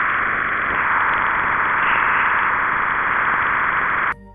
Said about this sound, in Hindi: जुपिटर का साउंड आप सुन सकते हैं।